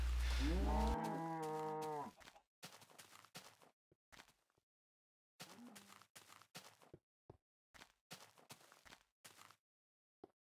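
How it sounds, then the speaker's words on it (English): Cows mooing in Minecraft, one long loud moo up front followed by scattered blocky game sounds and clicks with short silent gaps. "I got tired of hearing cows moo"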